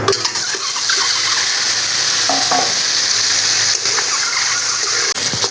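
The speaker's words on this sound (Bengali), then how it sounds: "তেলের মধ্যে এখন আমি ডিমটা ভেজে নেব, পুরোটাই একসাথে দিয়ে দেবো।" Loud, steady sizzling of egg frying in hot oil fills the whole clip, with a few scraping stirs and no talking.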